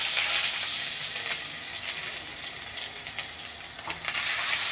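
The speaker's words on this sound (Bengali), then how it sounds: "তেলটা গরম হয়ে গেছে, প্রথমে মাছের মাথাগুলোকে ভেজে নেব।" Fish heads fry in hot oil in a wok with a loud, continuous hiss and crackle that stays steady throughout, with a few light scrapes as the pieces are moved, close up and with no talking.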